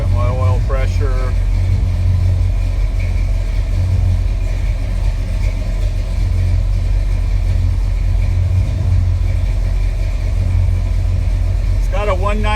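A 1968 Chevelle SS 396 idles steadily after start-up with a loud, deep, even rumble throughout, and someone speaks briefly near the start and again at the end.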